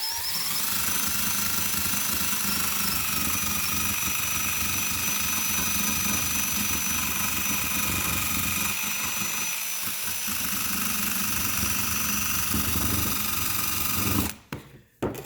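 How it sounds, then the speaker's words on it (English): A power-driven wire brush grinds old silicone off a Subaru transmission pan from a 2006 Outback 2.5 SOHC, a steady high whirring whine running continuously, close and loud, cutting out abruptly near the end. "take your wire brush and then lightly grind out some of this silicone"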